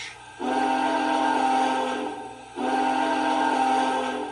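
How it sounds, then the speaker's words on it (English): A model train's Big Boy steam whistle, O scale, sounds twice, each a long sustained chordal blast of about two seconds over a faint steady background hum. "That sounds like the real Big Boy whistle to me."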